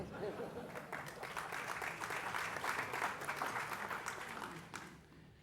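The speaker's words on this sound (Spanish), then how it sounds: "Pueden aplaudir si quieren, no hay ningún tipo de problema" An audience at a breakfast forum claps steadily at low volume, a dense patter of many hands that holds for several seconds and then tapers off at the end.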